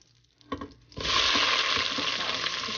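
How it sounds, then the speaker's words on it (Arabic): Shrimp drop into melted butter and oil and a loud, steady sizzle rises and fills the pan, preceded by a few brief clinks and stirring sounds. "اول ما ذابت الزبده في الزيت حنحطوا الجمبري"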